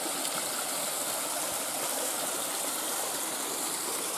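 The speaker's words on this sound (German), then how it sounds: "Läuft ein frisches, gutes Wasser runter." Fresh spring water runs down at a stop on a mountain trail in a steady, loud, close rushing stream with no pauses and no voices.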